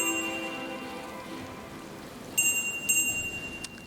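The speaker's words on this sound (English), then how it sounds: "It's raining." Rain in the video game Camp Canyonwood, a soft steady patter under faint tonal game music, with a couple of brief brighter chime-like accents near the end.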